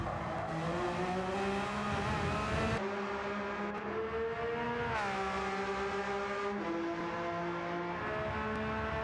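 A Gr.3 race car in Gran Turismo 7 accelerates hard at Mount Panorama. The engine tone climbs steadily and loudly through several upshifts, each gear change cutting the pitch sharply before it rises again. No voices are heard.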